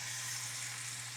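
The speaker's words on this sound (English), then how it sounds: "this is like a good bacon sizzling ASMR" Bacon sizzles in a pan with a faint, steady hiss and fine crackle, heard close to the microphone and alone.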